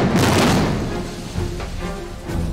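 Heavy, rumbling blasts from real ships rigged with dynamite and blown up for a Pearl Harbor war film, a dense low roar that swells at the start and surges again midway.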